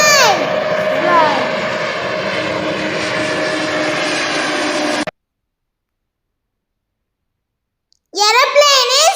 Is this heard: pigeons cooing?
no